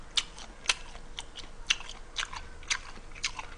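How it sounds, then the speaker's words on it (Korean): Close, quiet chewing of whole butter-grilled shrimp from a Korean eating broadcast, with sharp crunchy bites at irregular intervals over soft mouth sounds and no talking. "버터구이는 통째로 먹어요."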